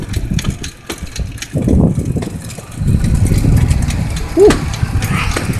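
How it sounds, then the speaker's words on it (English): A loud vehicle engine in need of a muffler rumbles nearby on a South Bronx street, its low idling roar swelling and persisting through the clip, with a brief exclaimed breath from someone partway through. "Somebody needs a muffler change or oil change."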